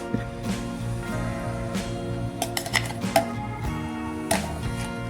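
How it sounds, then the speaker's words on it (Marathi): Blended raw mango pulp is strained through a sieve, with scattered metallic clinks and taps of a utensil against the strainer over a steady background hum, and no talking. "आता या याला आपण चाळणीने चाळून घेणार आहोत"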